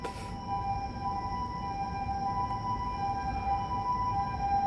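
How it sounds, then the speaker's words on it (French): Ambulance siren on a Tokyo street, a steady sustained wail with strong tonal bands held over loud, continuous traffic and city rumble for the whole stretch. "Petite ambulance."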